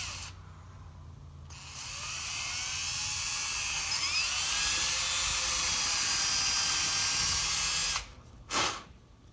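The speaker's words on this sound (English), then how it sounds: "I just basically used the drill bit like a router once I had the two ends established" A power drill bit is used like a router to hollow out a slot in wood, giving a sustained high-pitched whine with shifting pitch as it moves back and forth, stopping abruptly near the end before a short final burst.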